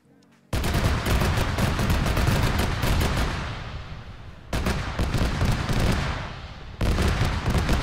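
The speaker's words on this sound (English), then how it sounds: "why, out of all of the areas, are they firing at the marked area?" Video game gunfire from Arma 3 in a target-rich battle zone, loud sustained bursts of rapid shots in three stretches separated by brief cuts, each burst dense and continuous, with no voices.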